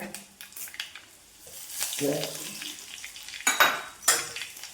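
Dried red chilies and curry leaves hit hot oil with mustard seeds in a pan, giving a crackling sizzle with sharp spits and scraping stirs, while a voice talks over it.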